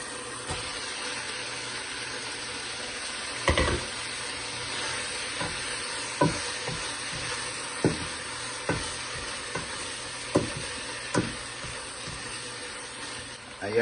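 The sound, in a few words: eggs added to pan for empanada filling, sizzling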